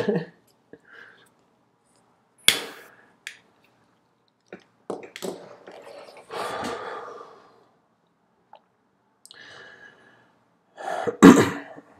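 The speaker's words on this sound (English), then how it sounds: "this one's live, so excuse my coughs" Several close, dry coughs and throat clearings come in scattered bursts, separated by quiet gaps, with a few soft clicks between them.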